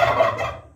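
A turkey gobbles once, a short loud rattling call close by on a farm, fading quickly into silence.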